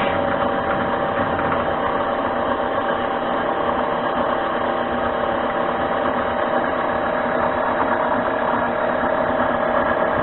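Hand-crank machine with its carriage driven at 500 RPM gives off a steady, loud mechanical hum and rattle that runs unbroken for the whole stretch, with no talking.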